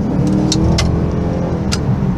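A car with an automatic transmission revs steadily from inside the cabin, a loud, even engine drone with a few faint clicks on top and no voices.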